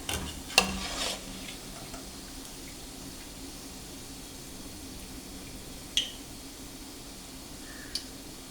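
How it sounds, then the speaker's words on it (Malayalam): Bread and egg snack balls frying in oil in a pan, a quiet steady sizzle with a few sharp clinks and stirring sounds standing out. "ഓരോന്നായിട്ട് ഇതുപോലെ തന്നെ നന്നായിട്ട് വറുത്തെടുക്കുക"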